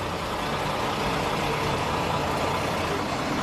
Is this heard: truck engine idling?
yes